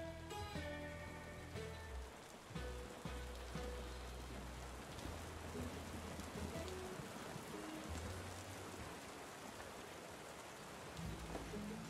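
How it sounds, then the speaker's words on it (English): Steady rain falls in a medieval building video game, a dense continuous hiss alongside low musical tones from the game's soundtrack, with no talking. "Seems we're in for a rainy night."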